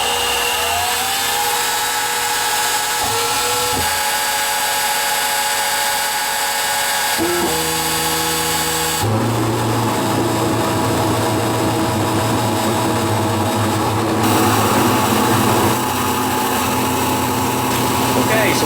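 A milling machine cuts a pocket with a 3/8 inch four-flute end mill, giving a steady high whine and grinding drone that shifts pitch and grows rougher partway through, loud and continuous with no voices.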